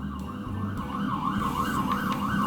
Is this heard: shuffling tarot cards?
no